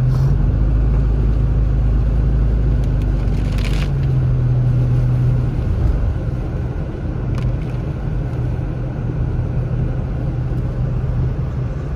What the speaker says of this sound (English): We're literally driving right on the lake right now, right alongside the lake here.